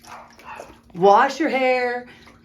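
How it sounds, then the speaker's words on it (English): A small dog barks and yips excitedly indoors at the mail delivery, loud and close, with a couple of rising whimpering barks in quick succession. "I think the mailman just came, and that's why our little dog is deciding to go bonkers."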